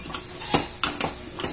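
Boiled mutton goes into a pan of fried potatoes for mutton curry, giving a faint steady sizzle with a few soft scraping and tapping strokes of a spoon, nearby and without talk.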